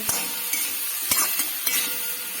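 A spoon stirring turmeric into a mixture in a pan over a gas flame, a constant sizzle with a few light scraping and clinking strokes, close and moderate.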